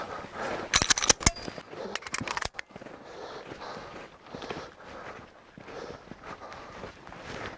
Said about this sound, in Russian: Вот это был первый выстрел